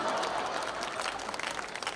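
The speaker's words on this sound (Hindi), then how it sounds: "आप तालियां ऐसे बजा दीजिएगा" A crowd at a Hindi comedy poetry gathering (hasya kavi sammelan) claps in a short, dense round of applause, steady and moderately loud throughout.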